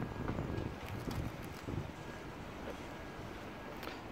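Wind blowing outdoors and buffeting the microphone, giving a steady broad rush with gusty low rumbles, close and fairly loud with no clear talk.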